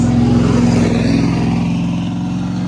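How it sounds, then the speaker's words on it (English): A noisy truck rumbles past outside the KFC birthplace in Corbin, Kentucky, its low, steady engine drone loud and close for the whole stretch, easing slightly toward the end. "there's a noisy truck."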